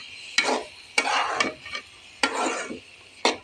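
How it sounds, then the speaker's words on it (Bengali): Malabar spinach stems and potato with prawns being stirred and sautéed in a pan, with scraping spatula strokes in uneven bursts over a soft background sizzle, close and moderately loud. "এখন আমি পুঁই শাকের ডাঁটা আর আলুটা দিয়ে দিলাম। এখন এইটাকে একটু ভালো করে কষাবো আমি।"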